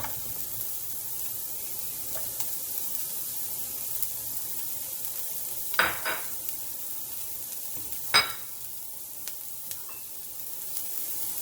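Onions frying in a pan for sausage fried rice, a faint steady sizzle with two brief sharp scraping bursts of stirring, no voices.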